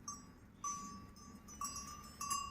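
A small bell on a dog's neck rings faintly in a few spaced jingles, each ringing out briefly over quiet background noise.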